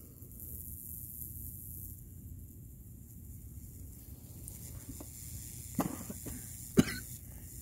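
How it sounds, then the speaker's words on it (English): A woman coughs a few times, close by and faintly, in a quiet room during a logo-etching job on metal, with short sharp bursts standing out over a low steady hiss. "My wife, who is recording the video, is also coughing."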